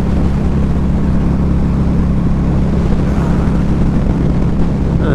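Engine of a 2012 Harley-Davidson V-Rod Muscle motorcycle while riding, a loud continuous low rumble with steady humming tones mixed with wind rush, unbroken throughout.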